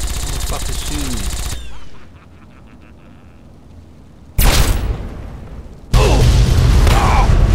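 Gunfire and a loud blast ring out in the video game Fallout 3, with sharp bursts and a heavy explosion cutting through a quieter stretch, while a person's voice is heard over the action.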